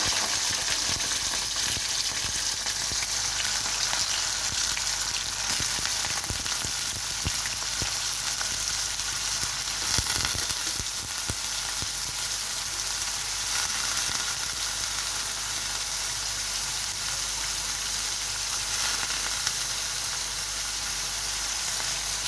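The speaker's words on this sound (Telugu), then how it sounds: "మనకి ఆయిల్ హీట్ ఎక్కాక కాకరకాయ పీసెస్ ముక్కల్ని ఇందులో నూనెలో కాగుతున్న నూనెలో వేసుకోవాలి" Bitter gourd pieces crackle and sizzle in hot oil, a steady, dense frying hiss with a few louder pops, continuous and close for the whole stretch with no talk over it.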